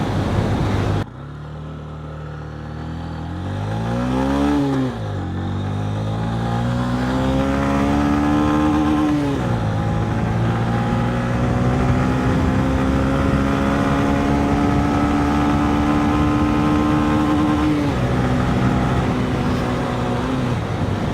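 A Honda CB125F motorcycle engine revs hard up to the limiter through the gears, a loud close buzzing drone that rises, drops at each shift and climbs again, with wind rush behind it.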